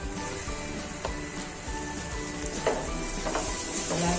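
Ginger garlic paste sizzling in a pan with onions already softened, a steady close crackling fry with occasional stirring scrapes, continuous and fairly loud with no talking.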